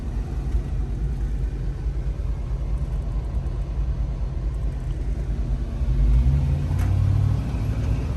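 A 1977 GMC Jimmy truck cruising at about 50 mph, a steady low engine and road rumble with a slight swell in drone toward the end, with no talking.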